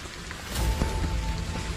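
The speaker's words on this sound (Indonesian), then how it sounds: "Wah, hujan." Rain begins falling on a mountain hiking trail on Mount Slamet, a steady hiss that rises about halfway through and continues, close and moderately loud, with low rumbling underneath.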